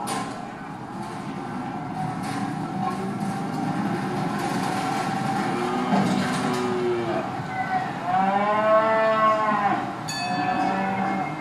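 Cattle at a livestock auction yard low repeatedly, with drawn-out moos rising over a steady background murmur of the busy yard, one especially loud call near the end.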